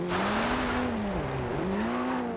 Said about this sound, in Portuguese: Olha a arrancada desse carro.